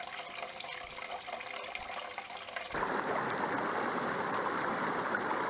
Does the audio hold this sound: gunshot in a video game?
no